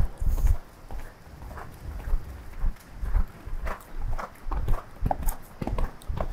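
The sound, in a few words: horse hooves walking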